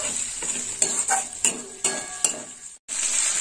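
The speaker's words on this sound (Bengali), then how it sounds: "টমেটোটা ভাজা হোক।" Chopped tomatoes frying in a pan, stirred with a metal spoon: a steady sizzle broken by a series of sharp scraping clinks against the pan, close and clear, with a brief gap near the end.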